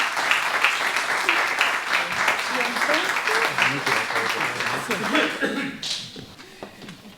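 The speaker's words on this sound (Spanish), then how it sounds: "Vamos a darle un aplauso" Audience clapping at a talk in a cultural centre, steady and moderately loud, with voices and murmuring mixed in before the applause thins out toward the end.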